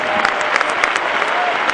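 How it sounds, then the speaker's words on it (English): Church congregation clapping hands during a gospel service, dense continuous applause with sharp individual claps standing out, loud and close for a short burst. "clap your hands like it's 1982"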